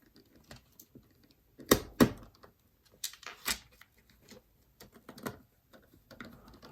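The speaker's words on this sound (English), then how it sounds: "we're gonna use more screws to secure this in place" Screws being driven by hand into an original Game Boy during an IPS screen mod, a quiet series of small clicks and ticks in irregular bursts, a few sharper clacks near the start.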